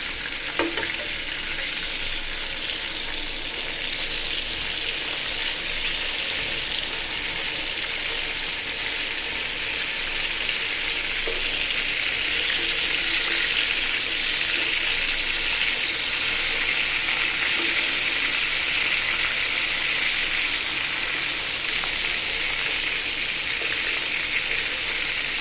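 Pomfret fish fry in hot oil in a pan with a loud, steady, bright sizzle that holds evenly throughout, with a faint clink or two early on.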